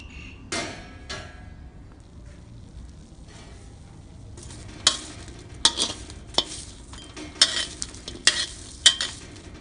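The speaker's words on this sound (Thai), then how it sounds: "คั่วหอมกระเทียม" Shallots and garlic dry-roasting in a pan over low heat, with repeated scraping and stirring strokes and sharp utensil knocks growing louder toward the end, over a low background.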